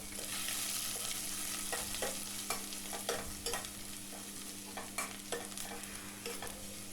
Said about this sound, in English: Now in the same pan, saute 1 teaspoon of fennel seeds, 2 teaspoons of finely chopped ginger and 2 teaspoons of finely chopped garlic.